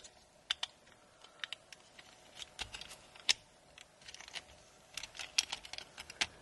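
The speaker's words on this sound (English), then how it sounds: "fold this panel out until it clicks, fold the foot in, then accordion this down until it clicks" Plastic parts of a Transformers Legacy G2 Jhiaxus toy being folded and snapped into place, a quick irregular series of small sharp clicks and taps, close and fairly quiet.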